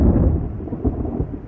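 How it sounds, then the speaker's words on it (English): A low, rolling rumble of thunder over steady, heavy pouring rain in a thunderstorm from an animated cartoon, loud and continuous throughout with no talking. "There was thunder and lightning, and the rain poured down in torrents."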